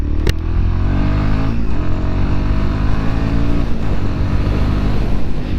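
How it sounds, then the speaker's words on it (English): A Royal Enfield Guerrilla 450 motorcycle engine roars loud and close, revving hard in a sustained throaty drone that rises and holds with steady rumbling harmonics throughout. "there, you heard me rip into it a little bit, right?"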